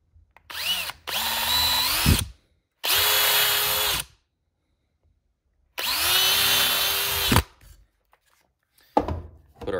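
A power drill drives wood screws into wood in three sustained bursts of whining motor, each ending as the screw seats, with short gaps of silence and a brief clatter at the end.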